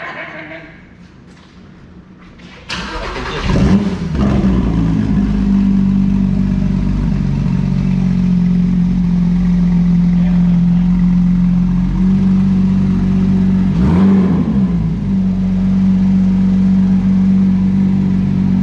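A Porsche 911 GT3 with a roll cage and six-speed gearbox starts up, settles into a loud, steady idle, and blips the throttle once near the end. People talk over the engine.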